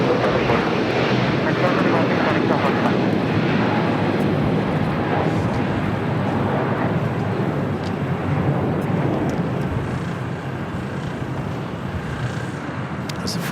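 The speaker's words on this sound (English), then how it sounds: "It's the first of two A350 1000s heading back to Doha." An Airbus A350-1000 jet departing LAX for Doha gives a loud, continuous engine roar that swells and then slowly eases, while a person talks over the noise.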